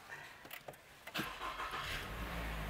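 A Toyota GR86 sports car's engine turns over and catches after a push-button start: a few soft clicks, then a quick crank and a rising rumble that settles into a steady low idle.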